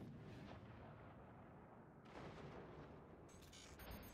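Heavy artillery fire in a German multiplayer video game, dense continuous booms and rumbling blasts filling the whole stretch, with brief crackling bursts near the end.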